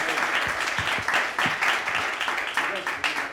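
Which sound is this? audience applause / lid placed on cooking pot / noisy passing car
audience applause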